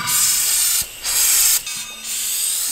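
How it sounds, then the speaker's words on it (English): Penetrating oil sprayed from a can onto a lug on a Kenworth truck tire, three loud, close hissing bursts separated by short pauses, with no voices. "You didn't spray enough lube on there."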